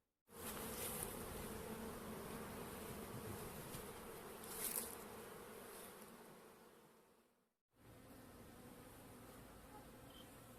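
Honeybees buzz steadily on a hive frame, a close, continuous drone that cuts out briefly and then resumes.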